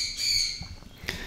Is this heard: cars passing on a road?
no